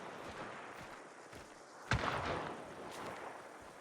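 A chaos bomb in a video game lets off one sharp, close blast near the middle, with softer scattered pops around it over a quiet background.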